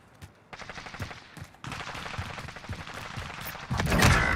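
Gunshots in a video game, rapid automatic fire in quick bursts with thumping impacts, growing louder toward the end, close and without talk.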